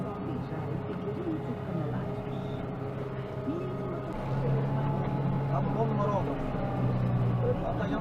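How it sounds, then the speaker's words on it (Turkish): Kubota M9540 tractor labouring under load while pulling a vertical rotary tiller across a field before corn planting, a steady low engine drone running throughout and growing slightly louder in the second half, with muffled voices over it. "Traktör çok zorluyor ya."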